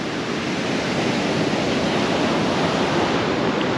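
Ocean waves break on the shore, a steady loud wash of surf that fills the whole stretch with no pauses, joined by some wind noise.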